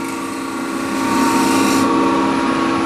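A woodturning scraper held flat against spinning wood on a lathe makes a loud, continuous rasping scrape with a steady motor whine beneath, swelling slightly after the first second.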